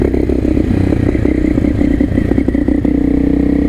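A KTM 660 SMC supermoto engine thrums loud and close while the bike is ridden, a steady rough throbbing pulse with some clatter.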